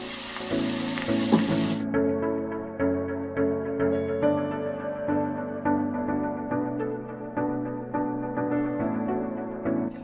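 Spice paste with fish roe, for a Bengali kochur loti dish, hits a hot oiled pan and sizzles steadily for about ten seconds, with light stirring clatter throughout and no talk.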